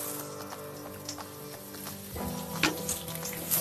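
Tomatoes frying in a pan for vegetable poha, a steady soft sizzle with faint stirring scrapes throughout, no voices.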